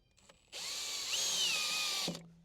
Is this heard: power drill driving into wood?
yes